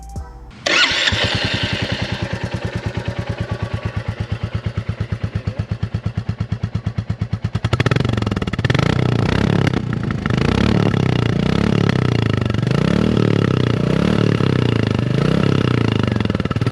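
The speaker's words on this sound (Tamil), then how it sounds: "இப்போ நம்ம பைக்கோட ஸ்டாக் சவுண்டும் கேட்கலாம்." A Royal Enfield Classic 350 motorcycle with its stock exhaust starts up close by, settling into a loud, steady single-cylinder thump at idle before the engine is revved into a rougher, fuller roar.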